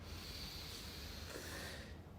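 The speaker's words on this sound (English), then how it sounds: "take a nice deep breath" A single long, slow breath is drawn in and let out through the nose, steady and close, with a soft hissing airflow that fades at the end and no talking.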